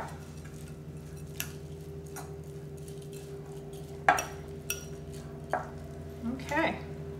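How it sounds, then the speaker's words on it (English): Squash stuffing is mixed in a bowl with occasional utensil knocks and clinks over a steady low hum. A few louder taps and a scrape come toward the end. "Just want to make sure this is mixed all the way through."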